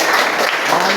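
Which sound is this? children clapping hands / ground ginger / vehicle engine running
children clapping hands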